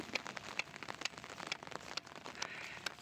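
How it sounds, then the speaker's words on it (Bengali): Rain falls steadily on fish pond embankments with a constant patter, scattered louder drops and crackles tapping on a nearby surface. "এখনও অনবরত বৃষ্টি হচ্ছে"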